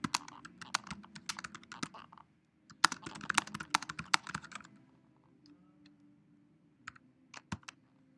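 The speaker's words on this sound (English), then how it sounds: "you would just simply start typing." Fingers type on a computer keyboard in quick bursts of close, crisp key clicks, pausing briefly and then resuming with a few scattered taps, with no voice over them.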